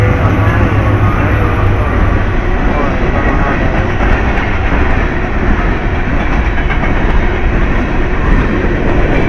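A northbound Union Pacific coal train rolls past a road crossing in Austin, Texas, with a loud, steady broadband roar of wheels and cars that holds constant throughout at close range.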